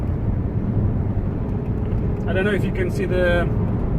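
A Honda CR-V i-DTEC diesel under way, with a steady low road and engine rumble filling the cabin throughout and a person talking over it partway.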